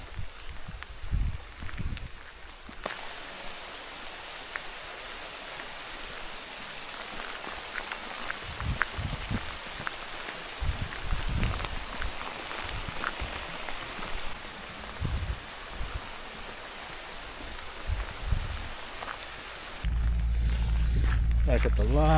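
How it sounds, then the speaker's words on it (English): Steady rain patters across the whole stretch, with scattered louder drops and a person talking over it; the downpour grows heavier and closer near the end. "Rain's really coming down now."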